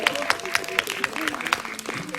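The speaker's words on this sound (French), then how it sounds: "On peut l'applaudir quand même" A crowd at an evening parish gathering in Barcillonnette applauds a singer, a close spatter of clapping with crowd murmur and a voice talking over it.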